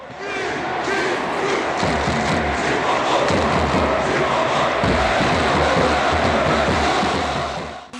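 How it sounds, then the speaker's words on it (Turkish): Crowd chanting and roaring in a Turkish top-club stadium within FIFA 23 with a real chant patch, a dense, continuous wall of many voices sustained at steady loudness throughout. "dört büyüklere gerçek gol ve tezahürat yamasını da ekledik"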